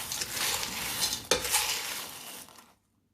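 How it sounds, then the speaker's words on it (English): Dry cereal and peanuts for Chex party mix being stirred in a bowl, a steady rustling, rattling scrape that rises briefly mid-stir, then stops abruptly. "So you're going to mix this dry cereal up really well."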